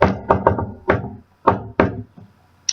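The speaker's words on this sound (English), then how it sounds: "So knock loud, but knock fun." Several sharp knocks on a wooden door in a playful rhythmic pattern, close and loud, with short pauses between groups and a final light tap.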